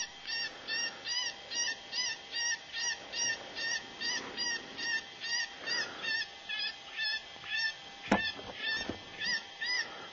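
A Spitfire electronic game caller zipped inside a deployment bag plays rhythmic goose honks, a steady repeating series of nasal calls, muffled and moderately loud, with a sharp click partway through.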